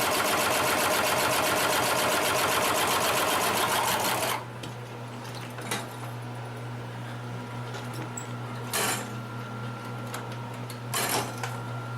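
A Consew 733R-5 heavy duty sewing machine stitches thick material in a fast, loud, even mechanical run for about four seconds, then stops, leaving a low motor hum and a few isolated clunks.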